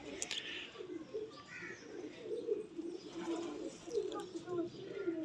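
Pigeons coo softly and repeatedly in the background while someone talks over them, with a few faint chirps near the start.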